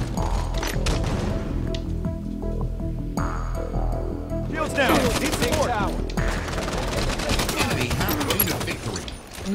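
Gunfire during a Halo 5 Guardians multiplayer Slayer match, with rapid bursts and repeated shots over game sounds and effects, loud and dense throughout.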